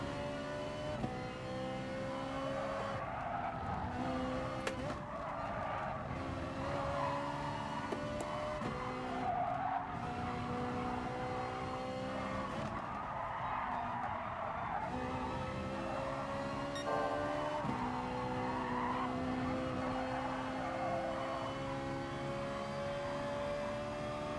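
A Ferrari GR.4 race car laps Suzuka in GT Sport, its engine droning steadily with rising and falling revs through the gears and intermittent tyre squeal, loud and continuous throughout.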